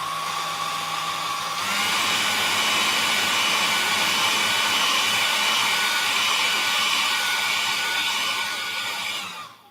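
Hair dryer blowing to dry paint on a pot, a loud continuous close whoosh that steps up in intensity after a moment and runs steadily before cutting off at the end.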